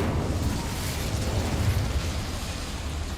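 Incendio fire spell cast in Hogwarts Legacy, a dense roaring whoosh of flame like a rumbling burst, loud and continuous for a few seconds with no voice over it.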